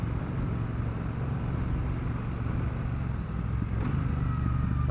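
A Triumph Bonneville Bobber 1200 motorcycle rides along in first gear, its engine giving a steady, low, throaty drone mixed with wind and road noise throughout, with no talking.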